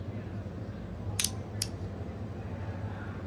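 Two sharp, close clicks from adjustable clutch and brake levers being worked on a Kawasaki Ninja 400 motorcycle, set apart by about half a second over a steady low hum.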